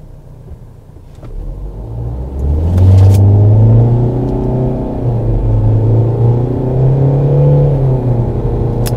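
A Renault Koleos 2.0 dCi diesel SUV with a CVT gearbox accelerates from 0 to 100 in four-wheel drive. Its engine drone swells quickly and then holds a loud, near, steady rumble as the pitch slowly climbs and dips, with no gear-change breaks.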